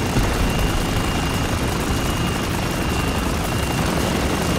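Helicopter rotor and engine noise from the combat game Spec Ops: The Line, a loud, dense, continuous beating drone that fills the whole stretch with no talking.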